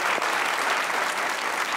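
A short burst of dense studio audience applause on a comedy talk show, loud and steady from start to finish.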